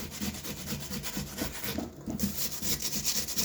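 Onion rubbed against a hand grater for potato pancakes gives a close, steady rhythm of coarse scraping strokes that runs throughout with no speech.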